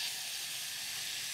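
Heavy cream hitting hot amber caramel in a pan gives off a brief, steady hissing sizzle, faint and close, with no voices.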